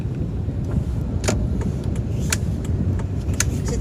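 A car driving slowly through city traffic, heard from inside the cabin: a steady low engine and road rumble with a few faint clicks and knocks over the top, and no voices.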